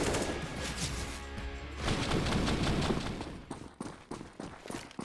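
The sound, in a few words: AK rifle gunfire in Counter-Strike video game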